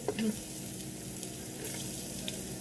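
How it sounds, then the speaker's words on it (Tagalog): Garlic for a Filipino pork steak sizzles steadily in a hot oiled pan, a continuous crackling fry with a brief louder burst at the start as it goes in. "Lagay na po natin ang ating garlic"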